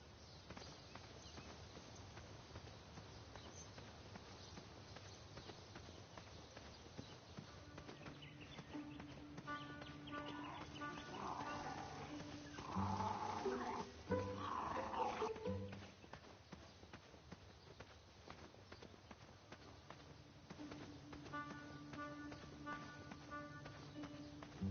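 Horse hooves clip-clop in a medieval knight video game, a steady run of light, fairly quiet taps over soft background game ambience, with brief tonal chimes in the middle.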